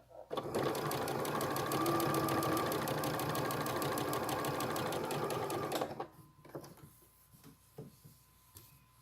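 Sewing machine running a seam for a Christmas project, with a loud, steady, rapid stitching whir for about five seconds, then stopping, followed by a few light clicks and handling knocks.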